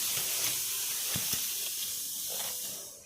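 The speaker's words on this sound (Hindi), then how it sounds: "तो कुकर मेरा लगातार सीटी दे रहा है।" A pressure cooker of dal on the stove releases a continuous, fairly loud hiss of escaping steam that runs steadily from start to finish with no voices.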